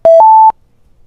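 Target found sound from the Point and Speak app on a phone: a short, loud electronic tone sequence with a lower beep, then a higher sustained tone, ending cleanly within half a second with no voices.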